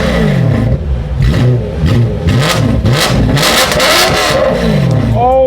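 A BMW M3 V8 with a Valvetronic exhaust revs hard up close, loud repeated climbs and falls in engine pitch over several seconds, with a voice breaking in briefly at the end.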